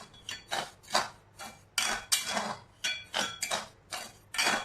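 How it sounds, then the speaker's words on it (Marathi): Salted peanuts tossed in a pan over medium heat make repeated scraping, rattling strokes roughly once or twice a second, with a clattering dry rustle on each stir, close and fairly quiet. "शेंगदाणे सतत एकसारखे हलवले की शेंगदाणे एकसारखे भाजतात।"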